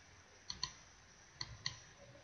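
Two quick double clicks from a computer mouse sound close and faint against a quiet background, with the pairs about a second apart.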